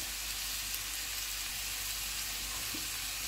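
Chicken frying in a pan with soy sauce, garlic chili sauce and hot chili sauce, giving a steady, even sizzle that runs unbroken throughout at moderate level, with no voices.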